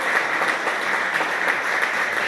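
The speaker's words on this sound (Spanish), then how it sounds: "Dale fuerte aplauso al Señor en esta hora." A church congregation claps loudly and steadily during a worship service, a dense, sustained wash of applause that fills the room from start to finish with no voices standing out.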